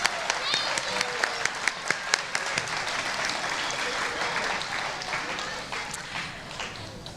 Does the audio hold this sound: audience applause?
yes